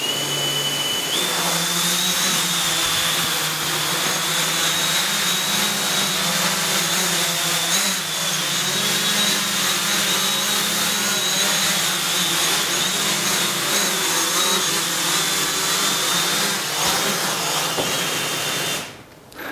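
Distributed Flight Array rotor modules lift off and fly together, a steady loud whirring drone with a high motor whine holding throughout before cutting off at the end.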